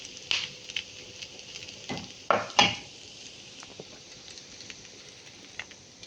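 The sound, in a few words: red onion frying and being stirred in a pan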